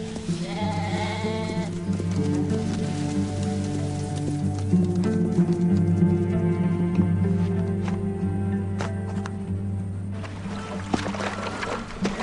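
Sheep tended by a desert shepherd bleat repeatedly over a steady low drone, several calls overlapping at moderate distance with no talking.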